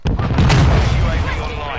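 A grenade goes off in a multiplayer shooter on PS4, a loud booming blast with rumbling gunfire and battle noise around it, under game voice chatter.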